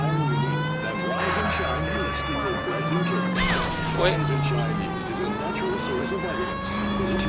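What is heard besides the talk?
police car siren in L.A. Noire video game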